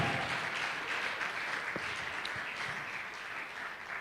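An audience at a business summit claps in a broad, even wash that fades slightly as it goes on.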